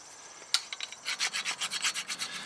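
A caliper bracket from the front brakes of a 2012 Dodge Ram Bighorn 1500 is scrubbed down to clean metal: a sharp scrape, then a steady run of about ten close, rhythmic rasping strokes.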